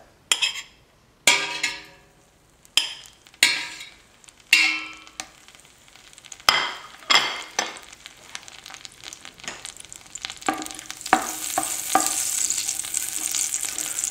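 Olive oil and butter sizzle in a pan, a steady frying hiss that swells and grows denser toward the end, broken early on by several sharp clinks and taps of utensils against the pan.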